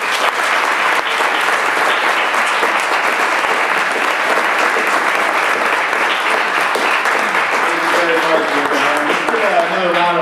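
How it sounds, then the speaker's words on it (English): Dense, sustained audience applause after a poetry reading, loud and steady throughout, with a voice starting to speak near the end. "Another round of applause for all of our readers."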